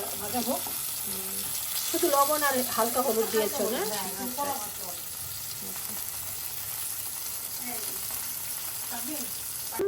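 Steady oil sizzle from rohu fish frying crisp in a pan, continuing throughout, with someone speaking briefly over it near the start.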